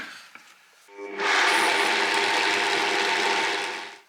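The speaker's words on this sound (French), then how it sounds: "je vais déjà commencer à mixer tout ça une première" A Vitamix blender mixes a sauce with mustard and sunflower seeds. After a brief quiet start, a loud, steady motor roar holds for several seconds and then begins to wind down.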